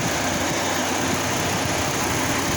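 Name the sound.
car AC compressor clutch turning, engine idling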